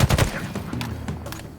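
Gunfire rings out in Halo Infinite combat with sniper fire nearby: a quick run of sharp shots at the start, followed by scattered booming reports and rumbling impacts that continue in a busy, loud mix.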